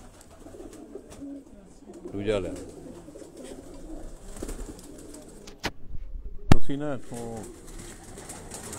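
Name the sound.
flying pigeons cooing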